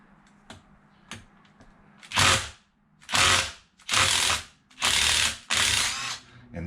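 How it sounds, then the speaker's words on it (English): Ratchet wrench tightening a bolt on an Arrma Kraton EXB RC car, a few light clicks followed by five loud, close bursts of rapid ratcheting, each about half a second long with short pauses between. "hold one side so I tighten this one down, hopefully to bust the other side loose"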